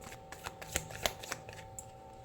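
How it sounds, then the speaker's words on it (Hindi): Tarot cards being drawn from a deck and shuffled, giving a run of soft, quick card flicks and slaps at irregular intervals, close and fairly quiet, with no talking over them. "अभी मैं जस्ट कार्ड्स निकाल रही हूँ"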